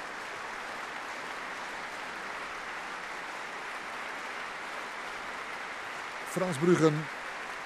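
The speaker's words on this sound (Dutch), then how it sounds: "laat uiteraard de leden van het orkest uitgebreid delen in het applaus" An audience applauds steadily after a Haydn symphony performed by a chamber orchestra in a concert hall, a dense, even wash of clapping, with a voice speaking briefly over it near the end.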